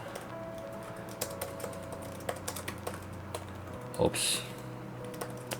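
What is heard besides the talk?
typing on a Redmi tablet keyboard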